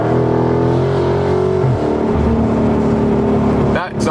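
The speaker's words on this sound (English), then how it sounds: "Exhaust sounds amazing." Loud, close exhaust of a Dodge Charger Scat Pack droning and rising in pitch as the engine revs under acceleration, with a brief shift partway through.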